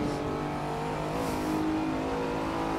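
A Lamborghini Countach engine in Assetto Corsa, lapping the Nordschleife, revs hard and steadily in a loud, continuous drone with a rising, buzzing harmonic tone throughout.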